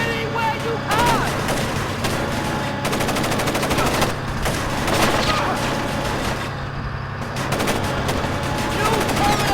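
Enemy gunfire in the video game Splinter Cell: Chaos Theory, repeated sharp shots and short bursts crackling over a low steady hum, with voices faintly mixed in.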